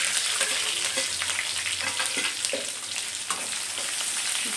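Garlic cloves and curry leaves fry in hot oil in a pan. A loud, continuous sizzle hisses throughout, with light stirring scrapes and pops close by.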